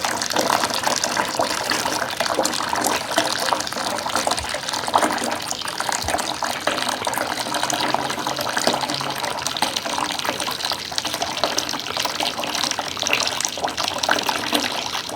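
Hot wort gushes steadily out of a mash tun while a single malt whiskey mash is sparged, a loud continuous rush of draining liquid that lasts throughout with no speech.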